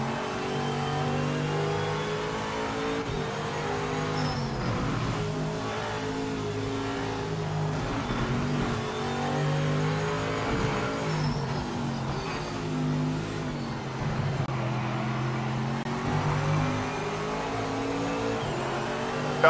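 GT3 race car engines in the sim racing game Project Motor Racing, droning and revving steadily through gear changes, loud and continuous with no talk.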